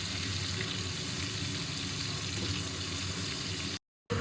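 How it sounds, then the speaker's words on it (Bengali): Potato pieces fry in oil already used for prawns, giving a steady, even hiss of moderate loudness. The sizzle continues without change, then cuts off briefly near the end. "এই তেলটার মধ্যেই চিংড়ি মাছ ভেজেছিলাম, যে এই তেলটার মধ্যেই আমি আলুগুলো ভেজে নিব"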